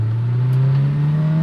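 A modified AP2 Honda S2000 engine pulls under acceleration, a loud steady drone whose pitch climbs slowly and evenly across the short stretch.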